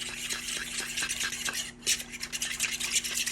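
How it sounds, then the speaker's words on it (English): A fork whisking a rice vinegar and cornstarch mixture in a bowl, rapid rhythmic clinking and scraping close by, continuous and fairly loud, no speech. "I'm gonna get a spoon, a fork, and whisk that back in there"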